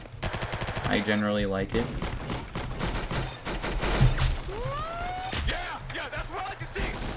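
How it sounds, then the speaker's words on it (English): Rapid bursts of automatic fire from the EM-249, a minigun-style weapon in the Roblox game Arsenal, loud and continuous across the clip alongside game effects, with someone talking over it. "the EM-249 is just actually a pretty good minigun style weapon."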